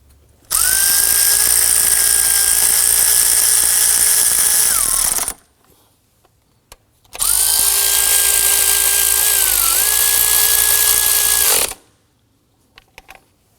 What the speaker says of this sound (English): then we can grab our power tool and zip those in